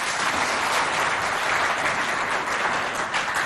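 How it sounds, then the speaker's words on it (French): An audience applauds a tearful girl at a school contest show in Moundou, Chad, with a few seconds of continuous, even clapping and no voices. "On l'applaudit."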